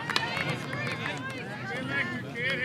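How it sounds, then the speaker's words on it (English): Home crowd noise at a high school baseball game between the Sonoraville Phoenix and Cedartown Bulldogs: steady outdoor cheering and whistling with voices mixed into a continuous rumble, fairly loud throughout. "This Phoenix crowd making some noise."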